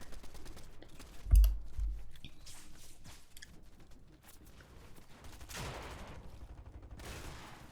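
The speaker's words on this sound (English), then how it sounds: "Nice SMG beam right there." Short bursts of SMG fire in Fortnite, rapid clipped shots mixed with keyboard clicks and game effects, fairly faint overall with one loud thump early on.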